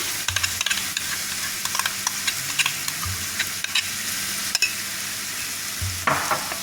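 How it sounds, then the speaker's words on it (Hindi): Cheese sauce is stirred into a pan of chicken macaroni with capsicum, giving a continuous close sizzle with scraping spoon clicks scattered through and no one talking. "अब हम इसमें अपनी चीज़ वाली सॉस डालेंगे"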